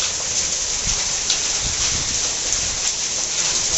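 Heavy rain with hail pours down steadily in a Garhwal hill village, drumming dense and loud on surfaces nearby, with scattered harder impacts through the downpour and no talking.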